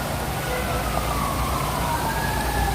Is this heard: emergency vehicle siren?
yes